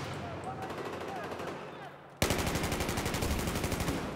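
Battlefield 1 gunfire, a distant rattle at first, then a sudden loud burst of rapid automatic shots firing steadily, with no speech.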